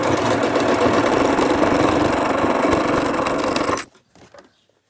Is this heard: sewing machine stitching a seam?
yes